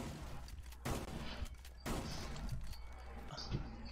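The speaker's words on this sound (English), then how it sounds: "Open this up, dude, with the shotgun." Shotgun blasts in a video game, two heavy broadband bursts about a second apart followed by fainter shots, under ongoing game noise and a person talking.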